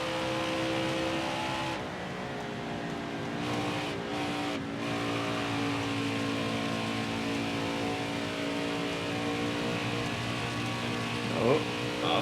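A Ford race car engine in NASCAR Heat 4 howls at steady high revs on a qualifying lap at Homestead, with a continuous loud drone and only slight pitch shifts throughout.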